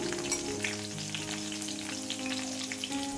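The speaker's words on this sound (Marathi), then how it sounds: "आता आपण चांगल्या तेलामध्ये परतून घेऊया" Fenugreek greens sautéing in oil in a pan, a continuous close sizzle and crackle throughout with no talking.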